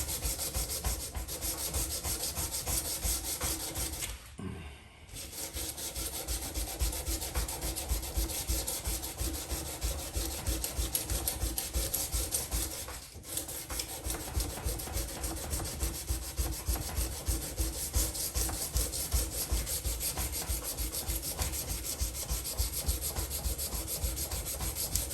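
Hand sanding a knife blade, a steady, continuous rasping scrub in fast back-and-forth strokes, fairly quiet and close, with one brief pause partway through and no voices.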